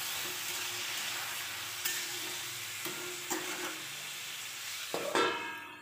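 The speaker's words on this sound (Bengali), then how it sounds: "লাউয়ের ডাঁটাগুলি দিয়ে একটু নাড়াচাড়া করে তার মধ্যে লবণ ও হলুদ দিয়ে আবার নাড়াচাড়া করে ঢাকা দিয়ে দেব।" Bottle gourd stems with salt and turmeric fry in a pan, a soft steady sizzle broken by several scraping stirs, ending in a louder scrape and clatter, with no talk.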